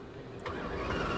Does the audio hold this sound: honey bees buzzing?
no